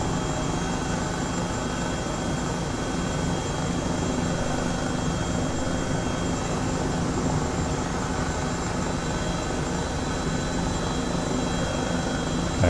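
An Airbus H135 helicopter in a flight simulator keeps up a constant, steady rotor-and-turbine drone at even loudness for the whole stretch, with nobody talking.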